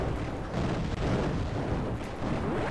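A mega bomb detonates in the shoot-'em-up video game Raptor: Call of the Shadows, a loud, dense, rumbling blast that roars on without a break for nearly three seconds, with no talking over it.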